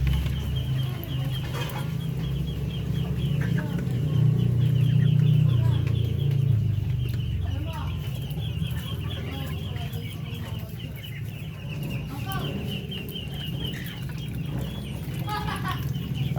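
Chicks and ducklings peep and cheep steadily inside a farm pen, with a low constant hum beneath and occasional louder chirps, fairly near and continuous without talk.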